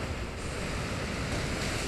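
Rushing water from the Surf move in Pokémon X, a dense, continuous wash of wave and wind-like noise, loud and unbroken for about two seconds.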